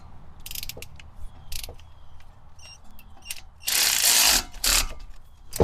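A ratchet snugging the wheel speed sensor retainer bolt on a 2018 Kia Rio S, with several short bursts of close, crisp clicking followed by louder rustling handling noise near the end, with no talk.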